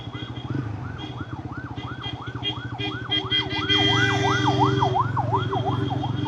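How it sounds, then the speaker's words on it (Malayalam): An ambulance siren wails in a steady rising-and-falling cycle as it passes along a road in Kerala, loud and close over engine and traffic rumble, growing slightly louder toward the end. "ഒരു ആംബുലൻസ് വരുന്നുണ്ട്"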